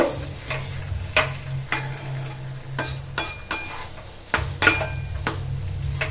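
A spoon stirs spiced potato filling with a little chili powder in a pan for hing kachori, with sharp metal clacks against the pan at irregular intervals over a low, steady sizzle; nobody speaks.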